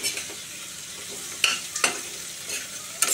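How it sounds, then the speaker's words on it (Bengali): Potato, onion and garlic frying in a pan: a steady sizzle with sharp scraping stirs about every half second near the middle and end, close and moderately loud, no voices. "আলু পেঁয়াজ রসুনটাকে নেড়ে চেড়ে ভাজা ভাজা করবো"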